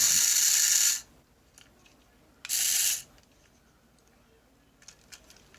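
Walmart Adventure Force Nano Racer micro RC car motor whining in two short high-pitched bursts, about a second each with a pause between, followed by faint clicks and near silence.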